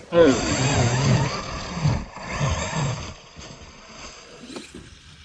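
A Traxxas Slash 2WD RC car fitted with 2.8-inch belted paddle tires launches across snow, its motor whining and the tires churning loudly at first, then fading as the car drives away.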